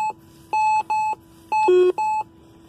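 A metal detector gives a run of electronic beeps: short steady tones, mostly at one pitch, with a brief higher, warbling tone near the end.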